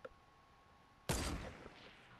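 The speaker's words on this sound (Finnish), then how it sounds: "Kuka ampuu, mistä niitä tulee?" Fortnite Battle Royale gunfire erupts suddenly after a quiet stretch, a burst of shots that then trails off into a fading rumble, with no talking.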